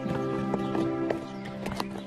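A horse whinnies in a sustained harmonic neigh over a steady run of hoof clip-clops, close and fairly loud, with no talking.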